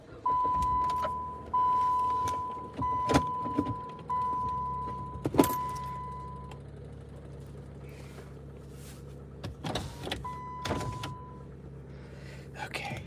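A car is started and driven off, with a repeating chime, door and mechanical clunks, then a steady low engine drone as it gets moving, with brief talk.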